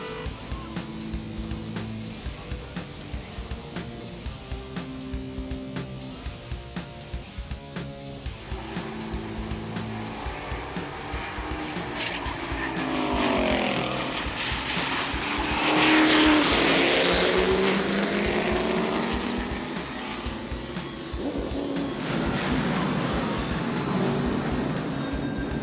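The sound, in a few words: Rolling Rock Late Models stock car race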